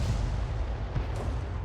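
Artillery fire from an AMX 13 F3 AM self-propelled gun in World of Tanks, a heavy, continuous low boom and rumble filling the short moment, loud and close, with no talk.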